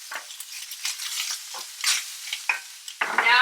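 Ground beef and garlic stirred in a hot pan, giving bursts of sizzling and scraping in irregular strokes, close and fairly loud, with a stronger, steady sizzle building toward the end.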